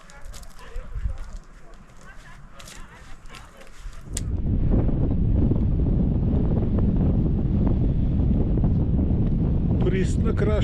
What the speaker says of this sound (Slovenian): Pristna kraška burja.